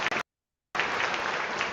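Audience clapping at a Mandela Day community celebration to welcome a reverend to the stage, a steady, dense round of applause broken briefly by a cut to silence before resuming.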